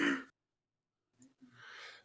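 A single short cough near the start, then near silence with a faint breathy rustle before a sharp burst at the very end.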